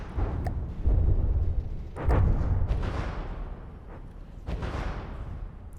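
Weapons fire in a From the Depths video game battle: heavy, rumbling booms arrive in a few loud bursts, with a steady low roar of combat between them and no talking.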